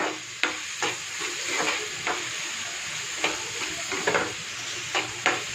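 Steady sizzle of food sautéing in a pan, broken by repeated scraping and stirring strokes at an irregular pace.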